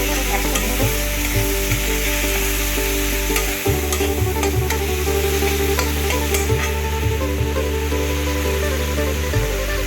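Spices frying in oil for a bata fish curry with mustard and poppy seed, a loud continuous sizzle with occasional scraping of a spatula as the mixture is stirred, close and steady.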